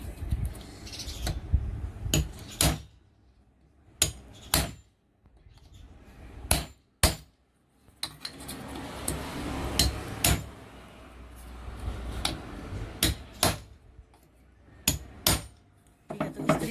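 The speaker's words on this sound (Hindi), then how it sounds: "तो रोड को हमें इस तरीके से ठोकना है जिससे कि निकल सके" A hammer drives a rod out of a cooler motor with a series of sharp, irregular metallic strikes, some in quick pairs, close by with quiet pauses between blows.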